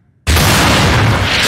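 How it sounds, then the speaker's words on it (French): A grenade explodes in a Resident Evil film, a sudden loud, broadband blast that hits after a brief silence and roars on with a rumbling body for over a second, alone. "On appréciera aussi la grenade qui n'explose qu'à moitié pour ne pas heurter Alice."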